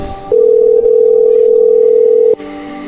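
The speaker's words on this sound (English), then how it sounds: "Please state your name after the tone, and Google Voice will try to connect you." A Google Voice call prompt tone: one loud, steady, pure beep lasting about two seconds, alone with no talking over it.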